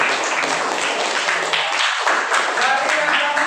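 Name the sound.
audience applause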